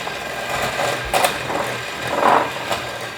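An electric mixer beats eggs at increased speed for a fruit torte batter, a steady whirring motor hum with faint rattling bursts of the beaters against the bowl.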